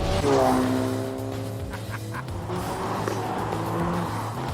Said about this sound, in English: This is a Ford Focus RS, the latest version. 350 brake horsepower from a 4-cylinder turbocharged engine.